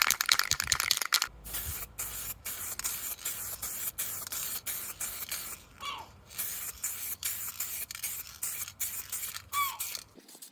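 A rattle can sprays paint onto a car bumper in repeated bursts, the nozzle pressed and released in quick hissing pulses separated by brief gaps, with faint handling sounds between sprays.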